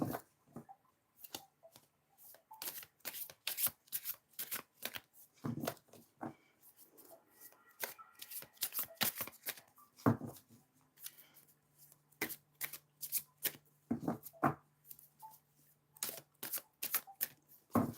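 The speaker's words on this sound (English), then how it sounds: "It's kind of hard to shuffle this big old chunk of thing" A large, chunky tarot deck is shuffled by hand in a quiet room, with repeated crisp riffling bursts and soft rubbing of card stock coming in uneven waves, close and fairly loud.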